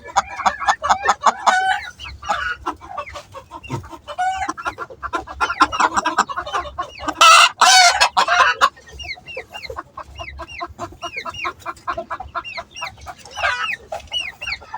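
Egg-laying hens cluck over and over in close, busy calls, swelling into a loud squawking burst midway before settling back into steady chatter.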